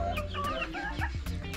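Native chickens crossbred with Rhode Island birds cluck steadily inside a shared coop, several hens close by with overlapping short calls over a constant low background.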